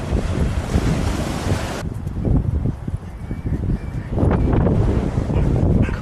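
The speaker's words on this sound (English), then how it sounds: "There's a real swell," Ocean swell rolls in toward the shore in a steady, washing roar, with heavy wind buffeting the microphone throughout and surging louder near the end.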